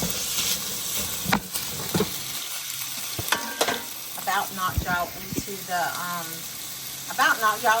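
Sausage and chorizo sizzle and crackle in a frying pan, with scraping and clattering of a utensil stirring it, while someone speaks briefly over the cooking.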